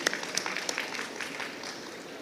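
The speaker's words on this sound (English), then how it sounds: "one more round of applause to everyone that I mentioned" An audience at a medical college platinum jubilee celebration applauds, a continuous crowd clapping with some sharper individual claps near the start, softening slightly toward the end.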